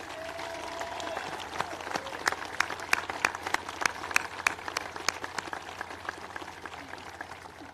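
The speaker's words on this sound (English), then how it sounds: "Let's give our families a round of applause." An audience at Nellis Air Force Base applauds military families during a formal address: scattered, distinct hand claps ring out in an uneven patter, moderately distant and fairly light, building slightly in the middle before thinning out.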